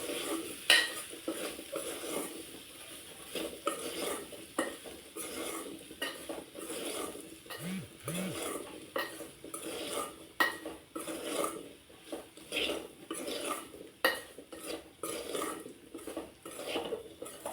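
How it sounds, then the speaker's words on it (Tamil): A utensil stirs potatoes with masala in a pan, giving close, irregular scraping and clinking against the metal over a soft background sizzle, with occasional louder knocks and no voices. "மசாலா ஐட்டம் போட்டுட்டு நீங்கள் இது மாதிரி கிளறி விட்டுக்கோங்க"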